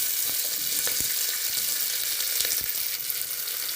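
Finely chopped onions and garlic fry with cumin in a pan for a dal curry, giving a continuous close hiss and crackle of hot oil, with a few soft taps of stirring and no speech.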